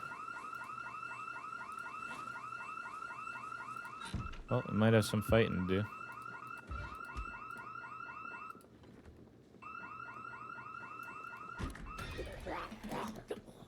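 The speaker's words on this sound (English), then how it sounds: "I forgot how loud house alarms were." A house alarm in the game Project Zomboid rings loud and steady with a repeating electronic warble, briefly masked by a burst of louder noise and cut out for a moment before resuming, while someone talks over it.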